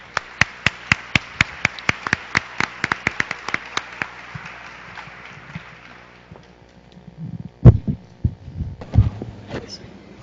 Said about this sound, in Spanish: Recibimos con un fuerte aplauso, por favor.